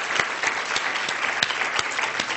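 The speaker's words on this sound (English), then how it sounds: "Let's give them a round of applause" An audience at a global health panel session applauds the panelists. It is a dense, steady round of clapping from a modest crowd, even and sustained for a couple of seconds.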